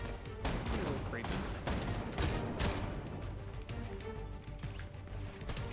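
Gunfire in a shooter video game with a DMR rifle, dense and continuous, loud rapid shots and crashes packed throughout under a busy game mix.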